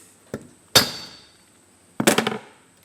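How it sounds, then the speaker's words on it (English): A hammer striking an engine valve spring retainer during a head rebuild on a 4AGE 20V engine from an AW11 MR2: a light tap followed by two sharp metallic whacks, loud and close, with ringing tails. "over the top there on the retainer, give it a good old whack"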